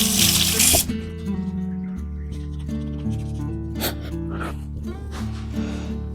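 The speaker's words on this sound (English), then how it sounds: "Then I'm gonna rinse my hands off." Hands rinsed under a running kitchen tap after shaping a burger patty, a brief burst of gushing water followed by splashing and rubbing with a steady low hum behind.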